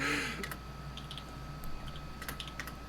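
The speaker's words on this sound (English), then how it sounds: "I can hear you typing now." Light clicking keystrokes tap in irregular bursts on a computer keyboard, close by, over a constant electrical hum.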